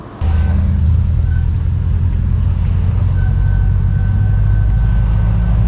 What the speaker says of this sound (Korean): 오 하면서 뭔가 이 고주파음처럼 소음이 나는데 처음 듣는 소음이에요